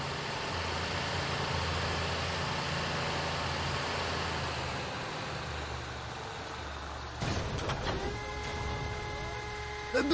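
Port crane machinery in Grand Theft Auto V hums as a continuous mechanical drone, with a sharper metallic clatter and whirring tones joining in near the end.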